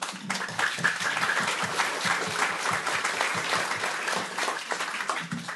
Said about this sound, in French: Et un applaudissement également